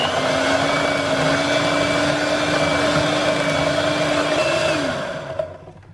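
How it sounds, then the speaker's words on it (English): An electric beater whirs steadily through keto chocolate cake batter, a continuous motor drone with a stable pitch that drops as it winds down near the end, then cuts off. "I'm using my electric beater, and I'm just going to whisk it until it's all smooth."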